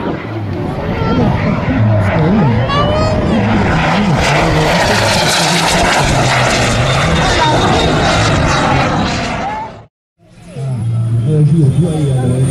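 A propeller airplane performing at an international air show holds a loud, droning engine roar that lasts about ten seconds, breaks off sharply, then resumes, while a commentator speaks over it throughout.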